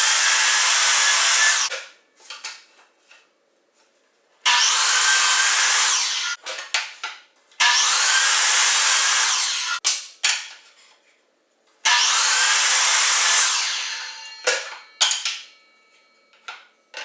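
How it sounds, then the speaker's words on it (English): Miter saw cutting wood in a shop, three loud whining cuts of about two to three seconds each, spaced by short gaps with clatter and spin-down, very close. "One of the most versatile tools I have in my shop is the miter saw."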